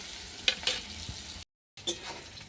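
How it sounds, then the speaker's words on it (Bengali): Chopped onion frying in oil left over from frying rohu fish, cooked until reddish, with steady close sizzling and a few louder stirring scrapes, broken by a brief silent gap. "পেঁয়াজটা ভাজা ভাজা হয়ে গেছে"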